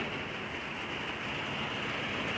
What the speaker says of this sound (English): rainy and wet out today.